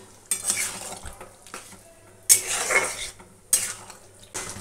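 Chili chicken in a pan with cornflour slurry being stirred in, heard as four close scraping bursts of a spoon against the pan over a low background hum, with no talking.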